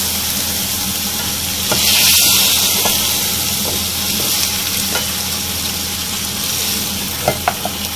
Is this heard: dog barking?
no